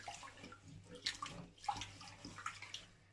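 Rice being rinsed by hand in water for pilaf, with swishing and gentle splashing close by in steady bursts, faint overall and with no talking.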